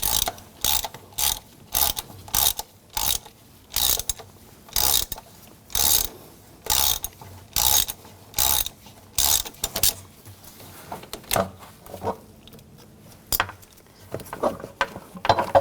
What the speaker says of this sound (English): This bracket right here, if you want to remove that, use a 10mm socket. Take that off.